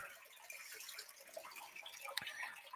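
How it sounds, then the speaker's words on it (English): Water pumped out onto a Miller table used for recovering gold runs in a faint, steady trickle and splash, with one brief sharper drip or knock near the end. "We're pumping out the last of it. So this should be kind of the last pour right there."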